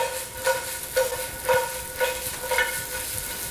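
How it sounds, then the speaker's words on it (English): Snow peas and sesame seeds tossed in hot oil, a continuous sizzle broken by regular swishing tosses about every half second, close and moderately loud. "Sprinkling on 1 tablespoon of sesame seeds and continuing to toss."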